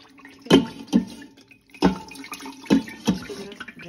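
Water being drained from boiled beef in a home kitchen, heard as several splashy pours and sloshes at uneven intervals, close and fairly loud with quieter trickling between.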